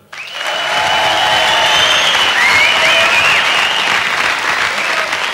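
A 1977 live rock concert audience applauds and cheers for band members, a loud, steady roar of clapping and whistles from a large crowd swelling right away and holding throughout.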